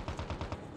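Rapid automatic gunfire in Call of Duty Mobile, about five sharp shots in an even quick burst within under a second, moderately loud and distant-sounding.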